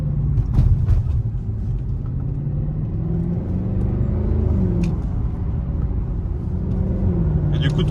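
Mercedes C63 AMG engine, a loud, deep, continuous rumble with a throbbing low growl that holds throughout, voices talking faintly over it.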